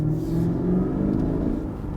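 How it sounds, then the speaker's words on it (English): Naturally aspirated 5-liter V8 of a 2016 Lexus GS F giving a steady, deep exhaust rumble, loud and close, holding a continuous drone throughout with no talk over it. "That's a very, very nice sounding exhaust note"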